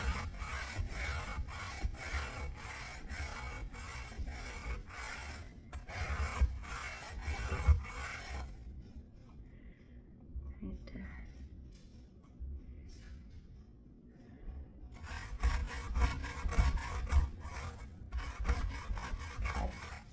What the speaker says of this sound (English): See the difference with a little bit of scrubbing?